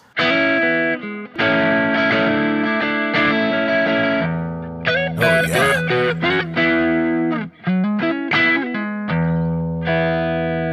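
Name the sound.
Strat-style electric guitar sample played through effects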